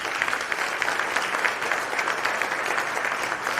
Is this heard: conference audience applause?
yes